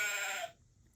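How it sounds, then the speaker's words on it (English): A single sheep bleats once, close and clear, for about half a second before falling quiet. "Sheep."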